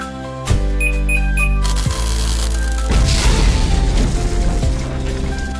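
An animated microwave explosion caused by a kitten, with sustained electronic tones broken by a sudden sharp boom and then a loud, noisy crashing burst that lingers.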